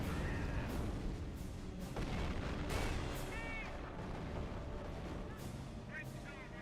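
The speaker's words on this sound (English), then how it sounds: "Ever more rockets come flying our way." Rockets rain down and explode in a war strategy game, a dense run of booming blasts and crackling impacts one after another, with a voice talking over the barrage.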